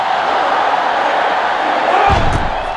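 Stadium crowd noise from the football game NCAA 06, LSU at Alabama, a steady dense roar throughout that swells with a low rumble near the end.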